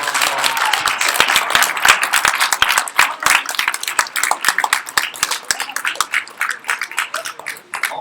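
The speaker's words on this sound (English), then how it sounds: "Could you please give a round of applause?" A college debate audience gives a round of applause, dense sustained clapping from many hands filling the room, loud and steady before tapering near the end.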